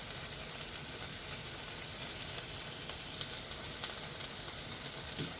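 Garlic sizzles steadily in a hot frying pan for a Chinese-style chicken curry, a continuous close crackling hiss with small pops and no talk.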